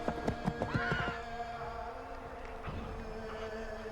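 Horses in Assassin's Creed 3 give a loud shrill whinny followed by a snort and a fainter second neigh, close up over a low ambient bed, no talking.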